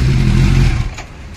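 Kawasaki Z900 motorcycle with an aftermarket exhaust and dB killer fitted, a short, loud, throaty rev up close that drops away quickly after under a second.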